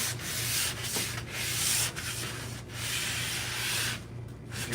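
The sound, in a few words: sanding wooden doors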